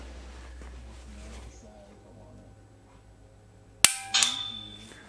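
A gun fitted with a laser training cartridge dry-fires two sharp, loud clicks in close succession near the end, after a quiet stretch with faint background hum and voices.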